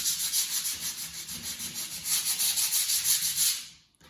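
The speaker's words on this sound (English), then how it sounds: "we have now sanded all our pieces" Wooden bird feeder pieces being sanded by hand, a close, steady rhythmic rasping of strokes back and forth that fades out at the end.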